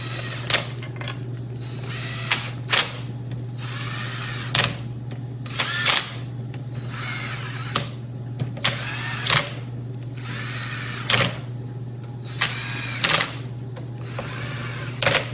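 A power tool drives 12 mm bolts into a snowmobile engine case in repeated short whirring bursts, with a steady hum underneath.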